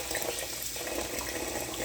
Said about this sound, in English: when you add water for the final time